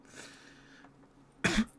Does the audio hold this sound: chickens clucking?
no